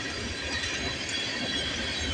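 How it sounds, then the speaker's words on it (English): CN freight train rolling past at close range, a dense continuous rumble and clatter of wheels on rails, loud and steady throughout with no voices. "there's the end of that train"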